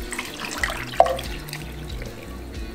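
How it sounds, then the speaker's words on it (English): Water runs from a tap into a crushed can for chili, a steady faint trickling stream with a single sharp splash or clink about a second in. "We're gonna add water."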